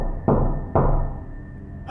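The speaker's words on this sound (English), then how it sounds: "the knocking grew louder" Two heavy knocks strike a door several seconds apart, each a solid thud with a short ringing tail, in an otherwise quiet room on an icy Christmas Eve.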